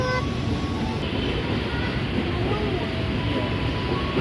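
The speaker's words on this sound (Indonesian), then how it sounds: "Azlan, gimana bunyi keretanya?" A KRL commuter train at Sudimara station gives off a loud, steady rumble and rolling roar with faint high tonal whines, continuous throughout at close range.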